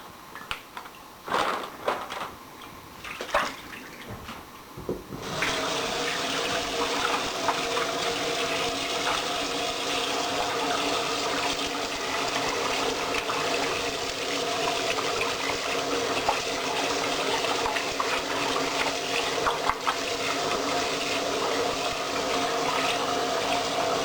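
Running tap water pours steadily over salt-cured bacon being rinsed to remove excess salt, a constant close splashing flow after a few seconds of small knocks and handling sounds.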